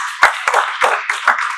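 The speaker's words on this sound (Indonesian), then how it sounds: "tepuk tangan" A church congregation claps in a brief burst of applause, several sharp overlapping claps spread across the moment with no talk over them.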